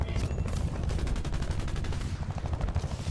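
Rapid automatic gunfire in the video game Battlefield: Bad Company 2, a sustained burst of close shots in steady rhythm with a heavy low rumble beneath, loud and continuous for a few seconds.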